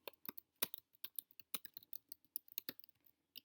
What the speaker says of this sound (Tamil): டேபிள் அகைன் நான் டைப் பண்ணுறேன்.